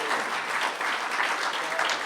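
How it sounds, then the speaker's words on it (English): Audience applause, a steady dense patter of many hands clapping together, fairly loud and sustained throughout. "that applause is deserved"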